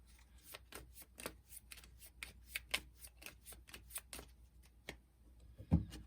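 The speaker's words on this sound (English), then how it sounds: "once I draw up to 5, I have to shuffle anything that was in limbo" Onirim playing cards being shuffled in a quiet solo tabletop game, giving a brisk run of crisp riffling snaps in steady rhythm, close and clear with no talking.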